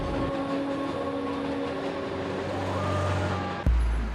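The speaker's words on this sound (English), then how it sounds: "The 7 train winds over and through Queens like a main cable." The 7 subway train rolling through Queens, a loud continuous rumble with steady metallic tonal whine and rail hum throughout, swelling slightly before a sharp clank near the end.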